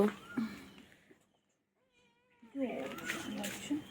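A pet cat named Chingri gives a drawn-out, wavering meow in a quiet moment, with a person talking softly to the cat just before and after.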